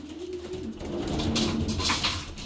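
Young racing pigeons coo steadily inside a loft, low throaty calls overlapping in a continuous murmur at close range with no talking.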